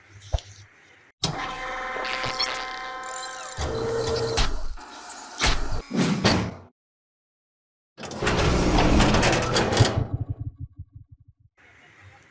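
Xerox 5755/5855 copier running a print job: bursts of whirring and clattering mechanism with tonal motor whine, a short silent gap, then another loud run of feed and rattle that tapers off.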